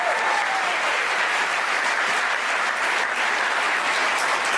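Audience applause fills the whole stretch, a steady, loud wash of clapping from a crowd with no talk over it.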